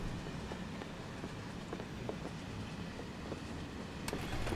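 A train runs in Final Fantasy VII Remake as a steady, low, rumbling hum with faint rhythmic clicks and rattles, heard quietly with no speech.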